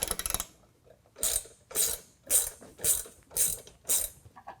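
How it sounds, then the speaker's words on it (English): A ratchet tightens a bolt at the driver-side A-pillar mount of a Rugged Ridge Sherpa rack on a Jeep JL: about seven crisp, evenly spaced bursts of close pawl clicking, each separated by a brief pause. "I'm going to start by tightening this bolt first"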